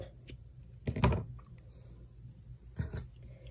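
Scissors snip through crochet yarn in two short crisp cuts about two seconds apart, close and quiet against a faint room background.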